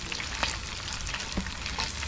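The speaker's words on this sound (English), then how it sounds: "Can you hear the sizzle" Chopped onion, chili and ginger frying in a pan for a fish curry, a continuous close sizzle with steady crackle and scattered sharper pops, no talking over it.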